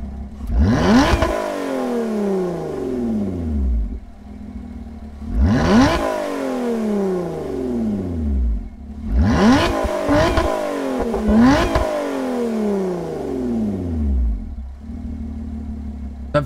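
A Maserati MC20 in Gran Turismo revs hard three times, each loud climbing engine note falling back to a lower idle, with a double blip in the third burst and no talking over it.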